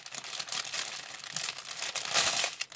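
Crinkly plastic packaging rustles and crackles steadily as rhinestones for crafting are unwrapped, close and fairly soft, with a brighter burst of crinkling near the end.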